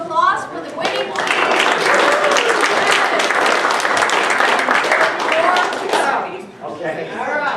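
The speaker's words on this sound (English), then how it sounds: "One more round of applause for the winning team." An audience at an RCAS meeting applauds the winning team, a loud, dense burst of clapping with some crowd chatter that holds steady for several seconds before fading.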